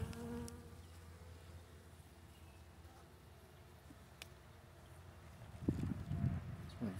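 Honeybees buzz steadily from an opened hive during an early spring inspection, a soft continuous drone throughout, with frames shifting and handling noise swelling louder near the end.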